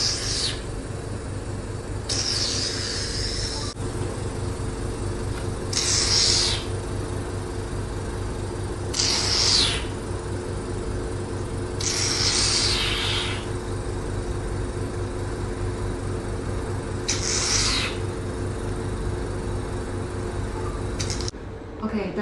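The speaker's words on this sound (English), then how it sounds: "now we start the trimmer" A hydrafacial machine hums and whirs steadily nearby with its trimmer running, while bursts of hissing vacuum suction come and go at irregular intervals.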